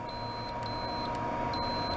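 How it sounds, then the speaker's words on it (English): A standard ohm meter testing continuity on a relay from a Range Rover P38 gives three short, steady high-pitched beeps in an even rhythm over a constant background hum. "you hear a beep. That means that it's a closed circuit and electricity will flow through."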